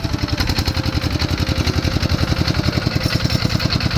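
A used Kubota ride-on tractor with a 14-horsepower engine idles steadily nearby, its loud, even chugging pulse repeating rapidly without a break.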